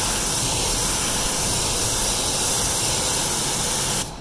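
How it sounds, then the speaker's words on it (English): Pressure washer spraying a car finished with a hand-applied 2K clear coat, giving a steady, loud broadband hiss throughout that cuts off abruptly just before the end. "my pressure washer always gives me this problem"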